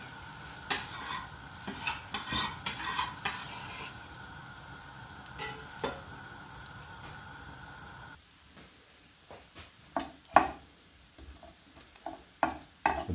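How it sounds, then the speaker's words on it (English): Something browns in a hot pan for a creamy broccoli soup, coarse salt already added, with a steady sizzle and repeated scraping stirs; the frying is loud at first, then drops to quieter crackles with sharp clinks and stirring taps. "So I'm going to add these in just to brown them off a bit."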